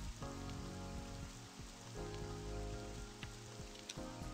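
Rain falls in the video game Sel Quinta, a continuous soft patter drumming on surfaces at an even, moderate level, with a few sharper drips standing out and no voices.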